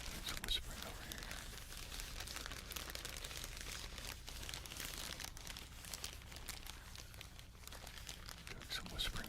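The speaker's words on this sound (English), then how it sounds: "while I do some crinkling over there" Crinkly material is handled steadily for ASMR during a live stream, a dense continuous rustling texture that runs throughout, with faint whispering mixed underneath.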